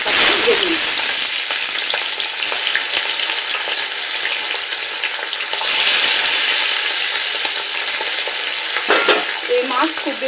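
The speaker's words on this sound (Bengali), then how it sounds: "तो एबार एके एके माछगुलो हालका भेजे निই।" Tangra fish frying in hot oil in a wok, a steady loud sizzle running throughout with crackling pops and occasional scraping stir sounds, no speech.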